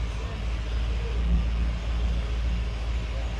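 A supercharged Ford Flathead V8 runs on a dyno with a steady, loud low rumble and dense exhaust drone that holds throughout, without clear revving peaks.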